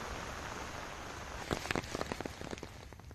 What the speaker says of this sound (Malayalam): കൊല്ലത്ത് മഴ തുടരുകയാണ്.